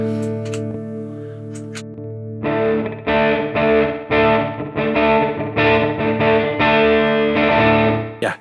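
Electric guitar played through a Mooer Prime P1 pedal on its US 60s amp model with some reverb, a sustained chord ringing first, then a run of strummed chords in steady rhythm, loud and close.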